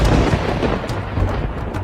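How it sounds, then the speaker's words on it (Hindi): A heavy thunderstorm with rain in a film scene: a dense, loud, continuous roar of downpour with deep rumbling and no voices. "बारिश और तूफान थमने का नाम ही नहीं ले रहे थे।"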